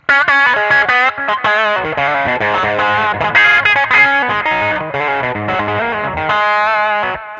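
A distorted electric guitar plays a choppy, bluesy, raunchy riff with short muted plucked ghost notes between sustained chords, loud and close.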